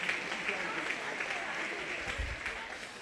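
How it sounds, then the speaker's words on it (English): Audience applause at a 4-H/FFA youth cattle show, a steady wash of clapping from a crowd that holds through the whole stretch, with a brief low thump near the end. "Let's give her a really nice round of applause."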